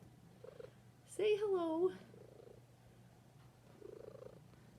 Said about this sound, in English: She's a little purr machine.